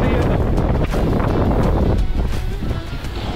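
Strong gusty wind sweeps across open lake ice during ice fishing, roaring and buffeting loudly against the microphone in uneven surges.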